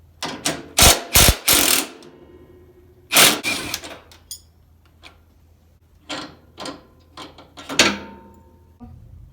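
A hand ratchet tightens a bolt on a 2020 RZR roll cage: bursts of sharp clicking pawl sounds come close and loud, then shorter, quieter clicks and knocks follow in a fairly quiet setting.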